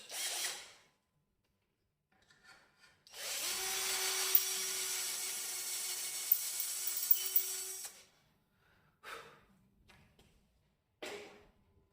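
A drill boring into a clamped piece of scrap wood guided by a dowel jig, a steady whirring burst of about five seconds with a brief hum, preceded and followed by short clicks and handling knocks in an otherwise quiet shop.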